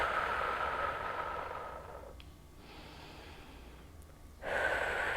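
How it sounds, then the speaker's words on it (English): A deep, airy exhale trails off during a Pilates breathing exercise, fading into near quiet before another strong breath rushes in at the end, close and clear. "Exhale."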